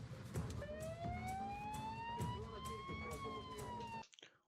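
A police car siren wails during a chase, one rising tone sweeping up and over a rumbling engine and road noise, then stopping abruptly.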